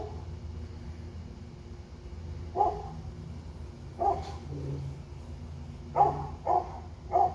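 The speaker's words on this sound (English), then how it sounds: "pardon my neighbor's dog." A neighbor's dog barks in the distance, a few separate short barks spread out and then a quicker cluster of three near the end, heard over a low steady background hum.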